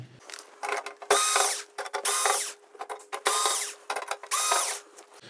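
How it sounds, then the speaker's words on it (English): A power drill whirs in four short bursts of about a second each, removing screws from a TV's circuit board (VIZIO V436-G1), with clicks and small mechanical handling noises in between. "we can just use the drill to get the board away from the chassis"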